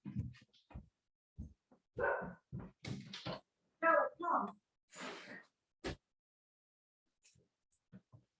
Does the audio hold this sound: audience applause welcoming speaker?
no